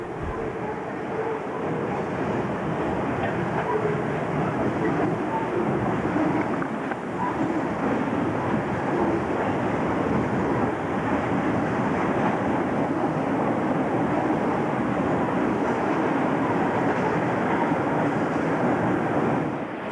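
A mixed freight train rolls steadily over a river bridge on the Boston & Albany line, crossing the west branch of the Westfield River, with a continuous loud rumble and clatter of wagons that persists throughout and a windy edge.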